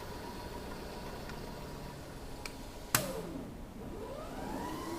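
DC self-excited shunt generator running with a steady mechanical hum and whine, with a sharp click followed by a rising, sweeping tone as it spins up.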